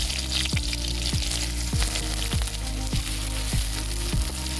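Onion goes into hot oil with dried red chilli, cumin and a bay leaf, frying with a loud, steady sizzle while a few soft scraping strokes recur at regular intervals.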